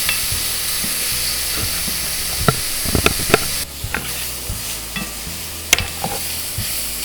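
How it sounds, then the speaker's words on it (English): Mushrooms sweat and sizzle in a pan for beef stroganoff, giving a steady close frying hiss broken by several sharp clicks and scrapes as they are stirred. "when the mushrooms start to cook. There's a lot of water in mushrooms, and we're going to sweat that out"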